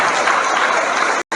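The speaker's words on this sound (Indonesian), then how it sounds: "Tepuk tangan lagi" Dense, loud audience applause at a talk, a continuous wash of many hands clapping that cuts out briefly near the end.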